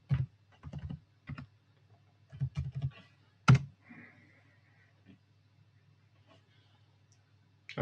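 Password keys tapped on a computer keyboard in short clustered bursts, close and fairly quiet, with a steady low hum underneath and long pauses between bursts.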